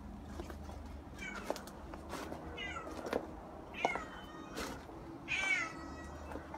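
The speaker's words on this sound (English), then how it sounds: "Where's the resident cat?" A cat meows repeatedly around an apartment garden, several short rising and falling calls spread over a few seconds, fairly close against a quiet outdoor background.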